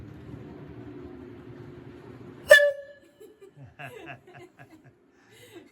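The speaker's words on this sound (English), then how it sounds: "Go ahead and pull the whistle." After a low engine rumble, a loud, short train whistle blast from a museum train diorama cuts in and stops abruptly, followed by people chuckling and laughing.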